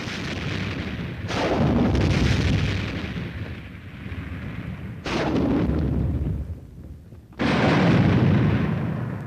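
Combined weapons of a reinforced infantry company firing all at once in a Mad Minute demonstration at Fort Benning, Georgia: heavy rolling bursts of gunfire and booms in three long waves, loud and dense with brief lulls between.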